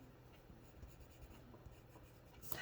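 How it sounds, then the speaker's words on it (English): Faint, steady scratching of a white watercolor pencil coloring in a stamped hippo on a card, continuous soft scraping close up with no talk. "So I'm going to color his belly."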